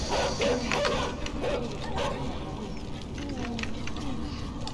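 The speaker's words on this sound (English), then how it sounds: "Oh crap, dogs." Dogs in the video game Inside bark and yip from a moderate distance beneath a steady mechanical hum and game ambience, with a player's voice talking over them.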